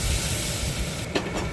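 Boiled matar dal poured into hot tempering oil with dried chilli, cumin and bay leaf, giving a brief loud hissing splutter that briefly drops and flares again, with no voices.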